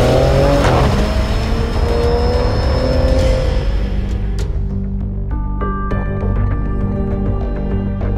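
Maserati Ghibli S engine pulling hard while driving, a loud, continuous rising roar with harmonic tones climbing through the gears, then settling into a steadier cruising note.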